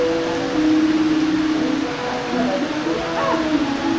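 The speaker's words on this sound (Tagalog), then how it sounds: "Napakainit kanina, biglang umulan." A sudden tropical rain shower falls in a forest on a hot afternoon, a steady dense hiss of drops on surfaces, loud and close, with faint voices underneath.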